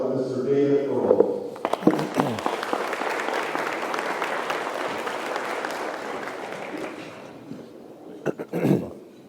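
An audience claps warmly to welcome David Earl at a community event, with a dense, steady wave of applause after a brief spoken introduction, fading out as a voice returns.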